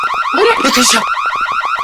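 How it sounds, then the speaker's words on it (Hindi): A car alarm blares in a steady, rapid repeating electronic pattern, loud and close, with a burst of noise partway through. "ये अलार्म की आवाज यहाँ से क्यों आई?"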